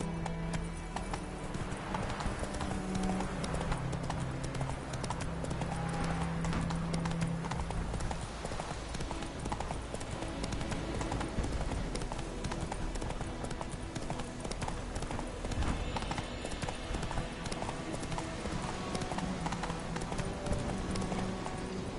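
Roach the horse galloping in The Witcher 3, with a steady, continuous run of rhythmic hoofbeat clip-clops close by over a constant game soundscape, with no speech.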